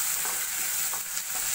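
Ginger, garlic and coriander paste hitting hot oil with cumin and mustard seeds, a loud steady sizzle with faint stirring scrapes throughout, no voices.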